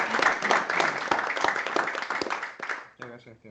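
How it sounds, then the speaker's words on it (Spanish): Audience clapping at the close of a TechJam Nicaragua 2020 session, a burst of applause that fades out, followed by a brief voice speaking. "muchachos, un aplauso,"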